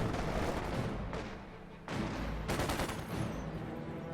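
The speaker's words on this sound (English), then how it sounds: "It's called in an AT strafe somewhere, I think." An anti-tank air strike strafing run in a war video game, heard as rapid bursts of heavy gunfire and booming impacts in several waves, loud and close with brief lulls between them.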